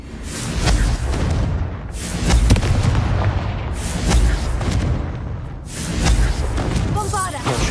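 A spell-casting duel in a video game produces heavy, booming explosions in a continuous loud series that swells and fades in rolling waves, with a few brief quieter dips between blasts.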